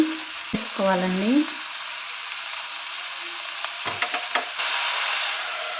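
Mushrooms with salt fry in a pan with ginger-garlic paste, a hissing sizzle broken by a few clanks and brief tonal scrapes of a utensil against the pan, no voices.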